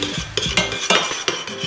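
Half a tablespoon of sugar is added to yakisoba sauce, heard as loud, close, rhythmic spoon scrapes and clinks against a bowl or pan, repeating several times in quick succession.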